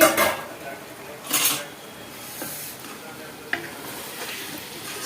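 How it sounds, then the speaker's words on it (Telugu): Pieces of meat frying in a pan for a Banjara dish, a soft steady sizzle broken by two louder bursts of stirring and a small clink near the end. "ఇప్పుడైతే వేగనిద్దామండి"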